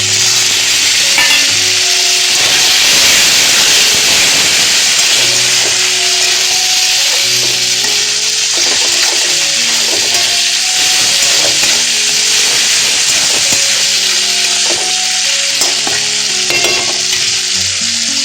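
Chopped tomatoes hit a pan of fried onions, giving a loud, continuous sizzle and hiss with frequent scraping and stirring strokes running throughout at close range.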